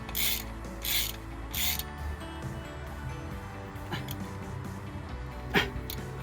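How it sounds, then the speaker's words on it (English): A ratchet tightens two Torx bolts on a new ball joint during wheel bearing work on a Mini Countryman 2.0 diesel R60, giving a few quiet bursts of rapid clicking followed by softer mechanical rattles and a sharp tap. "tighten down the two Torx bolts"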